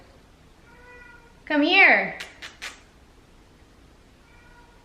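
A cat cries out with one long, loud, wavering meow, followed by a person speaking a few words; quiet background otherwise.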